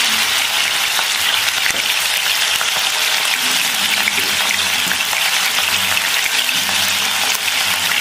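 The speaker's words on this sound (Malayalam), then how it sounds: "തവയിൽ വെളിച്ചെണ്ണ ഒഴിച്ച് ഫ്രൈ ചെയ്യാനായിട്ട് വെച്ചിട്ട് നമുക്ക് ഡീപ് ഫ്രൈ വേണ്ട, മീഡിയം അതായത് ഷാലോ ഫ്രൈ മതി" Fish for a fish biriyani shallow-fries in coconut oil on a tawa, giving a loud, dense, continuous crackling sizzle that holds steady at close range without a break, with no voices.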